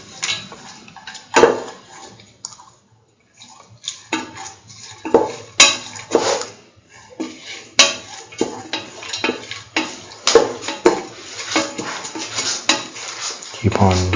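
Spoon scraping and clinking in a pan as lentils are stirred into a rice and egg mixture, irregular repeated clatter and scrapes with a faint sizzle underneath.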